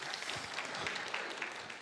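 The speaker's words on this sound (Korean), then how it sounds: "우리 카라 테일러 찬양팀 박수 한번 쳐주실까요?" A church congregation applauds its praise team during a Sunday afternoon worship service, a short burst of dense, steady clapping filling the room.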